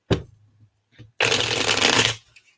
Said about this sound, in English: I get a couple more shuffles in here.